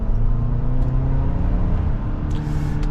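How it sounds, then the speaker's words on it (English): 2025 Kia Sorento X-Line SX Prestige setting off and driving in sport mode, a steady low engine and road rumble with faint whir, heard from inside the cabin. "So setting off in the new Sorento."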